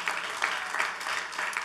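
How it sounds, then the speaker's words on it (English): Church congregation applauding during a sermon, a steady wash of many hands clapping with a few louder bursts, filling the room without pause. "Is that all the clap you got tonight?"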